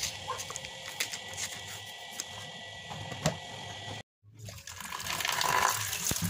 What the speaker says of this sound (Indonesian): cuci singkongnya dengan air yang mengalir dan pastikan tidak ada bekas tanah yang menempel di lapisan singkongnya